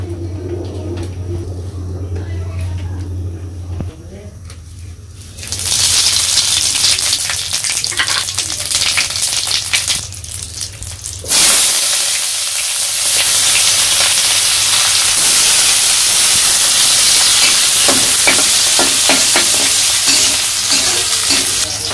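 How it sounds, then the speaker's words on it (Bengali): Onions and radhuni sauce fry in hot oil in a kadai in a village kitchen, a loud, steady sizzling hiss that starts after a quiet hum and swells louder halfway through, with occasional stirring scrapes. "তো আমি পেঁয়াজ রাঁধুনি সস ভালো মতো ভেজে নিচ্ছি।"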